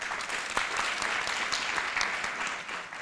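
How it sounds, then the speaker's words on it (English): Applause from an audience at a formal economic report launch, dense and continuous clapping heard at moderate distance, steady throughout with no talk over it. "let's acknowledge him with a round of applause"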